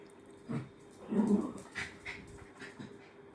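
Pet dogs panting and scuffling in rough play with a toy their own size, with soft whimpering bursts and yips rising and falling over a low background, close by.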